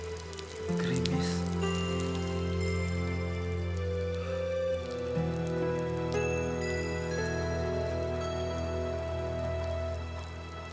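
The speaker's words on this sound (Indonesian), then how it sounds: "Bapak mendengar rintik hujan." Light drizzle falls in a steady, soft patter that holds for about ten seconds, with sustained tonal sounds running underneath.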